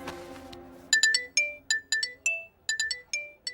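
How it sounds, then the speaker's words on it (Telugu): A mobile phone ringtone plays a bright, bell-like melody of repeated chiming notes in quick bursts, loud and close, rising in after a faint, low hum. "నన్ను ఇది ఫోన్ చేసిందండి"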